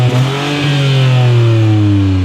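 A sports car sits stationary while its engine is revved, a loud, close, throaty drone that holds steady and then swells into a rising pitch, with no talking.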